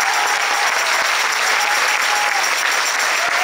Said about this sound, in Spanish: el padre Patricio, a quien le pido también un fuerte aplauso.